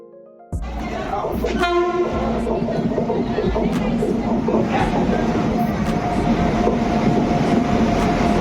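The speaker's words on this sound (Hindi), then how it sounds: "डोंगागढ़ जाए बर हमन ह सबले पहले दुर्ग ले ट्रेन लेथन" Passenger train on the Durg to Dongargarh route: a loud, steady rumble of rolling wagons begins abruptly and carries on throughout, with a horn sounding briefly near the start.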